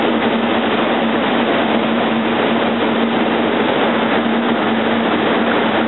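A local passenger train with rail cars 171 and 172 pulls out at Bethayres, giving a loud, steady broadband roar and rumble with a faint sustained tone running through it and no pauses.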